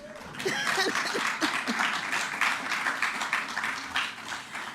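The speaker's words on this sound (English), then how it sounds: "Yes, you can clap." Applause breaks out at a Cabinet press briefing after news of Jamaica co-hosting the Women's World Cup: a brief voice, then a sustained patter of many hands clapping in a room, with faint chuckles and murmurs.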